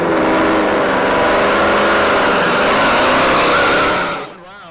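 Modern Hemi street cars roar down the drag strip at Milan Dragway, a loud, sustained engine blast passing close by that fades off sharply near the end.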